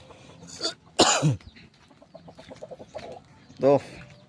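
Chickens, including a white hen, give a few sharp clucks and throaty croaks close by, with a burst of short rapid clucking in between and a final loud squawk near the end.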